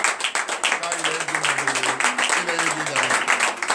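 A church congregation claps and cheers in thanks during a morning prayer service, rhythmic steady clapping under raised voices and acclamations, loud and crowded.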